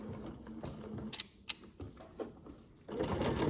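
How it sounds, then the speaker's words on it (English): A sewing machine stitching fabric for a one-piece bread bag, running in short close bursts with clicks and pauses, briefly backing up a few stitches before sewing on steadily. "I'm going to back up about 3 stitches, and then I'm going to start sewing"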